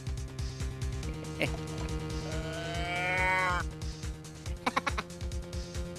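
A cow moos in a Phoenix Wright: Ace Attorney Trilogy HD courtroom game, one long drawn-out call rising over steady background music and game sound effects.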